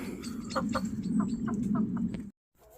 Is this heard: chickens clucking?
yes